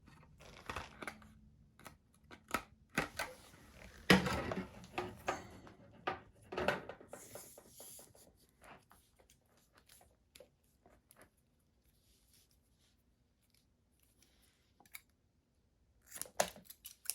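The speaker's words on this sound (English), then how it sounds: "I'm gonna go ahead and cut 2 pieces here" Scissors snip through material cut into pieces for a Suzuki Grand Vitara fender flare install, giving scattered sharp cuts and rustles, busiest in the first half, then a long quiet stretch and a few last clicks.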